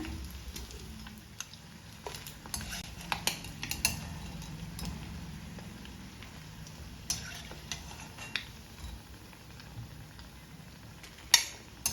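A batch of fried snacks lifted from hot oil for a street-style teatime treat: a soft frying hiss runs throughout, broken by scattered metal clinks of a utensil against the pan, including a sharper knock near the end.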